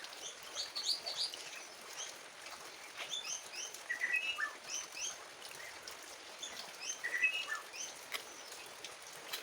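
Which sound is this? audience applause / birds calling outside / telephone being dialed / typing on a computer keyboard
birds calling outside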